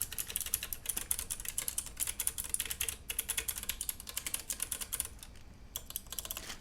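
Rapid clicky keystrokes on a mechanical keyboard numpad rattle in quick bursts, close and crisp, with a brief pause near the end.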